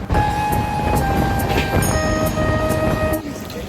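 A passenger train rumbles along the tracks with a steady rolling clatter, punctuated by a brief horn-like tone, loud and close throughout.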